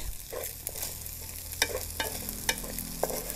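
Fried rice with Chinese sausage being stirred in a pan, a steady sizzle of frying under repeated scraping strokes of the spatula against the metal, several sharp clicks standing out.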